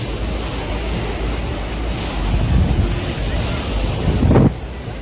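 Sea waves washing onto the beach at Cancun, a steady broadband roar with surges swelling and breaking, mixed with wind buffeting the microphone throughout.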